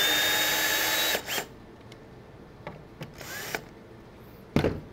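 A power drill runs continuously for about a second, backing screws out of a high deck chair during assembly, then several short whirring bursts follow with a final loud burst near the end.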